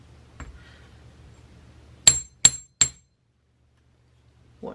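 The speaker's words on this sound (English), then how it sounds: "I'm going to do hammering right now." Three sharp, bright metallic strikes of a hammer on a steel bench block, evenly spaced and close, ringing briefly after each blow in an otherwise quiet room, with one faint tap beforehand and a small knock at the end.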